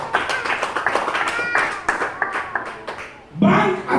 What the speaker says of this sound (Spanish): Denle palmas al Señor, iglesia.